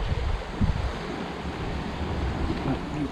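Steady wind blowing along a riverbank on the Saône during carp fishing, a broad continuous rushing hiss with gusty low rumble buffeting the microphone, no speech.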